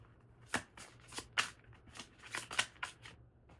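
A deck of oracle cards is shuffled in a quick run of crisp riffling and flapping bursts, close and fairly loud, with no voices.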